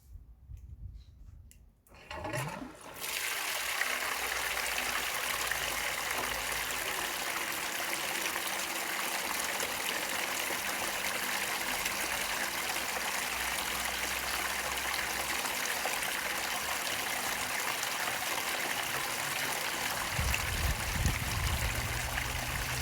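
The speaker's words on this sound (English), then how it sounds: "I'll turn the pump on and then make some adjustments with this water flow" A water pump feeds a wraparound spray bar on a 6-inch Gold Rat highbanker, starting up after a moment and settling into a loud, steady rushing spray of water that continues unbroken.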